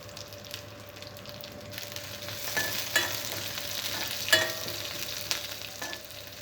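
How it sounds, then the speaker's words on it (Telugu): Garlic, curry leaves, dried red chillies and seasoning seeds sizzle in hot oil for an ivy gourd and onion fry, steady crackling with occasional stirring scrapes and sharp pops, close and moderately quiet. "వెల్లుల్లిపాయ కొద్దిగా ఫ్రై అయిన తర్వాత"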